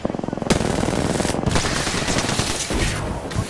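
Rapid automatic gunfire in the Apex Legends battle royale game, loud and continuous bursts with overlapping shots for several seconds, with faint voice chatter underneath.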